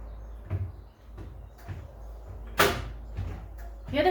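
A stuck washing machine door's emergency lock releases with one sharp, close click, surrounded by a few softer handling knocks and rattles in a quiet room.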